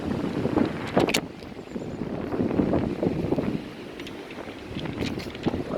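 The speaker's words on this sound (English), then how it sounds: "You guys can hear the wind blowing." Strong wind gusts buffet the microphone outdoors on a high plateau, a continuous rumbling roar that swells and eases with brief louder bursts throughout.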